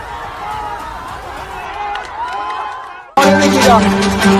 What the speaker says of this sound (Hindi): ये देखिए भगदड़ मच रही है यहाँ पे